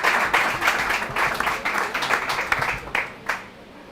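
A school competition audience claps in a quick, fairly loud, rhythmic burst, many hands striking together in near-unison beats before it trails off.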